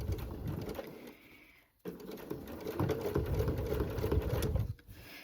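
Sewing machine stitching a fabric pocket onto an apron, a steady rapid mechanical patter that drops out briefly near the two-second mark, then resumes and runs on steadily, close and fairly quiet.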